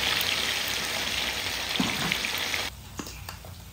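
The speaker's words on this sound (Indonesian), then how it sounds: "Kan kita goreng kepalanya ini ya." A fish head fries in hot oil, a dense, steady sizzle that drops sharply toward the end, leaving only faint crackles.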